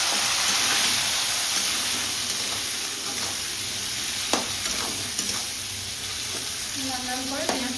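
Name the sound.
chopped onion frying in a pan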